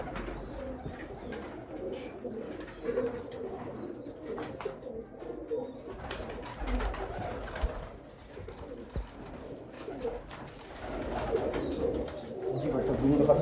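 Teddy pigeons, a rare Bankay pigeon breed, cooing in a loft, soft low repeated coos with scattered chirps and rustling, close by, under intermittent background voices.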